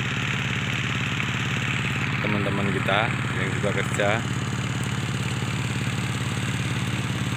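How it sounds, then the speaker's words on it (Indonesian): A steady mid-pitched engine drone, consistent with a tractor working a field being prepared for watermelon, runs continuously and fairly close throughout, with someone speaking briefly over it. "juga ada yang udah mulai menaktor buat lapangan semangka nantinya"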